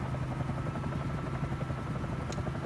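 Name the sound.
helicopter flying over New York in a flight simulator video game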